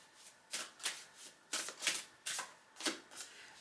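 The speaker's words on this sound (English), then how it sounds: "Whoa, whoa, let's keep shuffling." A deck of playing cards being shuffled in repeated crisp riffles, about eight quick bursts with short gaps between them, close and fairly quiet with no talking.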